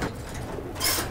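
Racing pigeons coo in a loft, a soft low throaty call heard close for just over a second, followed by a brief rustle.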